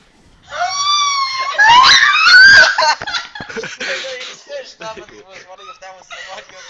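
Shrill, wavering screams burst from a video played back on a computer, loud and close for a couple of seconds, then give way to laughter and excited chatter.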